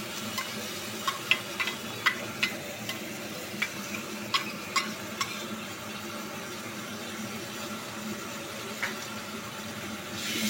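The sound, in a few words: garlic paste sizzling in hot oil while stirred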